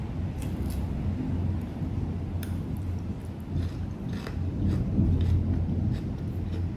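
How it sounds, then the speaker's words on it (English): Distant thunderstorm rumble with rain behind it, a low continuous roar and a few faint sharp crackles, fairly quiet with no talking. "The storm right now is crazy."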